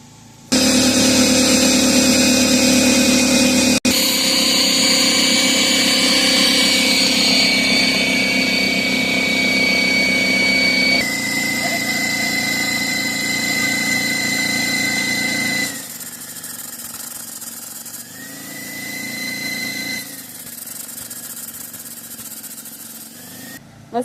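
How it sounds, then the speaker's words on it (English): An air compressor and a plasma cutter run together off an ABOK 3600 portable power station, giving a loud, steady mechanical drone with whining tones that shift partway through, then drop to a quieter hum as one machine cuts out. "So I have to run the air compressor and the plasma cutter at the same time."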